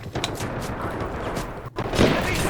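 Gunfire bursts rattle through a Delta Force: Black Hawk Down battle, sustained rapid shots with a brief gap, then heavier firing resuming, loud and close.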